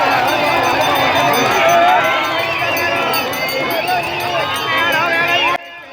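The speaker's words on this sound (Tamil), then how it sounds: "அங்கே பாருங்கள், பக்தர்கள் ஆரவாரம் போட்டு வரவேற்கிறாங்க" Devotees raise a loud, continuous roar of cheering at the Veerappur Padukalam temple festival, a dense crowd din filling the scene before it drops off abruptly near the end.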